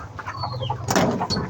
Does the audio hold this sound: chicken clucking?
yes